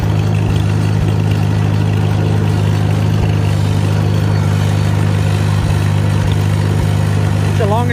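A 1943 Farmall H tractor engine runs steadily at a low idle-like chug, loud and close, with a few faint clanks over the constant drone.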